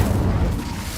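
Incendio fire spell blast in Hogwarts Legacy, a dense rumbling whoosh of flame that stays loud and close through a brief burst.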